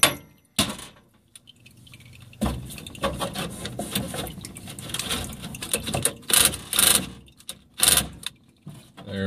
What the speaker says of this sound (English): that hose clamp, it's already tight in there. But we're going to cinch it down a little bit more